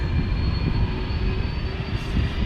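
KLM Airbus A330 jet engines rumbling at Amsterdam Schiphol, a steady heavy low roar with a thin whine on top, continuous and fairly loud, no voices.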